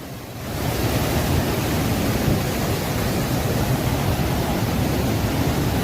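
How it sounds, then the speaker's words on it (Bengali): Hundru Falls in Jharkhand roars as a steady, broad rush of falling water, loud and unbroken throughout, with no voices over it. "এই যে এটা হচ্ছে হুন্ডু ওয়াটারফলস।"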